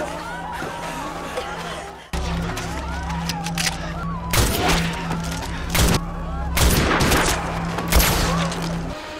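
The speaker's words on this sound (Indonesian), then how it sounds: "Miura yang sedang sembarangan menembak, bahkan mengenai Haesin" Gunfire erupts in a tense TV drama standoff, with several sharp, loud shots and bursts spread across the scene over a low rumbling backdrop and faint voices.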